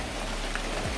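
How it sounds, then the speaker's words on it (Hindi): Steady, dense rain drumming on a metal sheet shed roof at Tikona Fort near Lonavala, a continuous hiss and patter with no pauses or voices. "ऊपर ये सब पतरा लगा हुआ है और बारिश की वजह से इसकी आवाज़ आ रही है"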